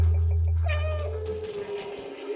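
A cat meows in the video game Stray, giving one clear, drawn-out meow up close, followed by a fainter, rougher cry as a low hum fades out beneath it.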